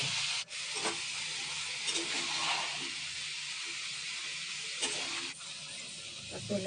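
Cabbage, carrot and potato with masala sizzle steadily in a hot pan, with a constant frying hiss and intermittent scraping stirs, close and moderately loud, with no voices.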